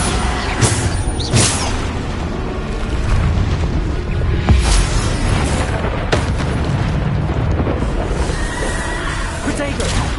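Bombarda spell explosions go off in Hogwarts Legacy amid chaotic combat, booming blasts and bursts layered over continuous loud battle noise, with voices and a whinny-like cry mixed in.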